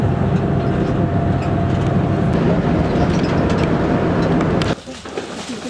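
Interior of a passenger train heading out on a tundra hiking trip, with a steady loud rumble and hum throughout that drops abruptly near the end, leaving quieter cabin noise.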